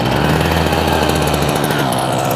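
Redmax CHT220 hedge trimmer with a small two-stroke engine, running close and loud with a steady rapid buzzing putter throughout.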